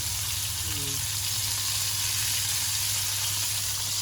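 Bombay duck (bombil) fish fry on a hot griddle in Malvani style, giving a steady, dense sizzle that runs unbroken throughout, fairly close, with a brief faint voice-like tone early on.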